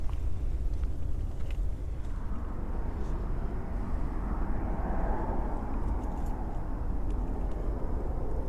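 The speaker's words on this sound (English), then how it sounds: "unfortunately it's in the flight path to Fort Lauderdale International" Airplane passing over a quiet equestrian nature trail in the flight path of Fort Lauderdale International Airport, a continuous low rumbling drone that swells slightly in the middle and fades, faint and distant, with no voices.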